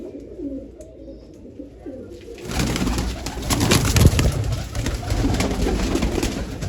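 Low, soft pigeon coos repeat close by, then a louder burst of rustling, fluttering noise takes over and continues.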